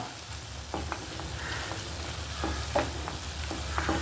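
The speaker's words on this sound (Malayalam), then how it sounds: "പൊടി ഇട്ട് കൊടുത്തു ഇനി ഈ പൊടി ഇതിൽ കിടന്നിട്ട് നന്നായിട്ടൊന്ന് ചൂടാവണം" Spice powder heating in a hot pan for a Kerala poditharavu-style dish, with a low steady sizzle and a few short scraping stirs scattered through, close and moderately quiet with no talk.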